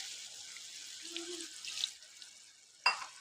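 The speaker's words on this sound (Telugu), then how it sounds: "మంచిగా ఆయిల్ పైకి వచ్చింది, ఇప్పుడు మనము వాటర్ అనేది యాడ్ చేసుకుందాం." Water poured from a glass into a pan of drumstick tomato curry simmering in oil, a faint close trickle and splash lasting a couple of seconds, ending in a short louder splash.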